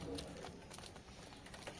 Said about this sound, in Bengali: আর এখানে এই পায়রা দুটো জোড়া রয়েছে আমার